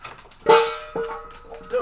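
A pet dog barks indoors, one loud sharp bark followed by a couple of softer yips, close by.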